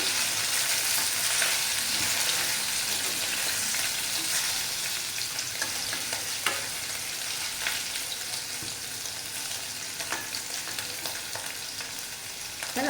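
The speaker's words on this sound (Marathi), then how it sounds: "दोन्ही बाजूने आपण असं छान त्याला परतून घेऊया" Paneer pieces shallow-fry in a pan for a Hyderabadi paneer curry, producing a dense, even sizzle close up, with occasional soft pops and crackles.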